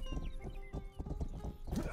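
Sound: horse hooves clip-clopping in video game Rustler

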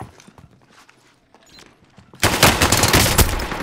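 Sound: gunfire in a battle royale video game

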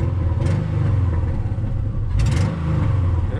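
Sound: car engine revving

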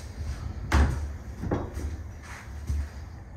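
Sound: sliding barn door closing

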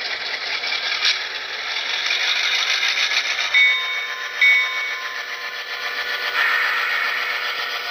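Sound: HO scale Intermountain FP9 model locomotive with DCC sound moving

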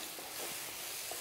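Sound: tomatoes sautéing in a pan

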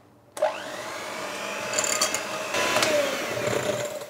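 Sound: electric mixer beating eggs with sugar

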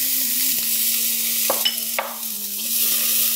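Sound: white onion sizzling in olive oil in a pan

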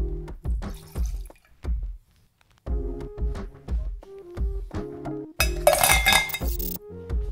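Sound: ice cubes clinking into a copper mug

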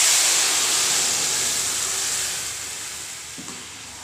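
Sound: tomato paste frying in hot oil with chili powder

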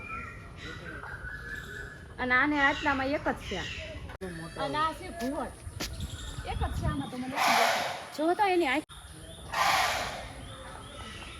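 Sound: birds calling at Sakkarbaug zoo

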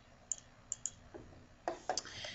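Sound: computer mouse clicks while dragging a point

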